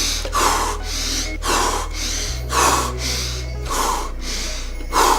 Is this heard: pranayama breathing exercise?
yes